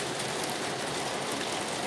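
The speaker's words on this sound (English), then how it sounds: "We got a little bit of rain." Rain falls outdoors in a steady, even hiss of drops on surfaces, moderately quiet and continuous, with no voices.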